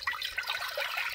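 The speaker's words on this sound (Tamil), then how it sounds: "இப்போ பூ கொதிக்க வைக்கிறதுக்கு தண்ணி ஊற்றிக்கிறோம்" Water pours steadily into a cooking pot to boil butterfly pea flowers for a naturally blue pulao; a short, continuous splashing trickle, close and moderately loud, with no talking.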